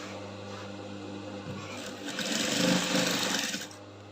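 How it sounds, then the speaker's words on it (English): A sewing machine stitching a fabric flounce, with a steady mechanical whir and hum that grows louder and faster for a moment mid-run before easing back. "So I'll just start sewing my flounce from here."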